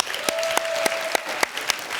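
Studio audience applause on a talk show, a steady bed of clapping punctuated by a handful of sharp, evenly spaced loud claps close by, with a sustained tone running under the first half.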